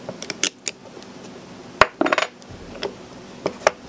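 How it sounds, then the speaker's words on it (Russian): Small metallic clicks, clinks and taps as two screws are undone and a part is lifted off a DE-310Sh electric drill during disassembly. The sounds come in close, scattered bursts with quiet gaps and no talking. "Теперь откручиваем вот эти два винта и снимаем."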